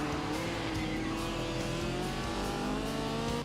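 A '73 BMW Turbo engine revs hard in the Forza Horizon 2 racing game, a steady loud drone with rising pitch sweeps as it accelerates, close and continuous with no talk.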